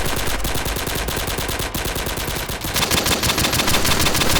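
Rapid automatic gunfire from the mobile shooter game Pixel Strike 3D, dense continuous bursts of shots filling the whole stretch, loud and close with no talk over it.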